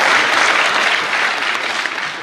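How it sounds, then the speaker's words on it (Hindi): An audience at a Hindi comic poetry recital claps loudly and continuously, a dense wash of applause that fades slightly toward the end. "एक बार तालियां बजाकर"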